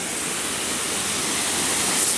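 Waterfall on the American River roaring at close range, a dense, steady broadband rush of falling water that holds constant and swells slightly toward the end, with no voices over it.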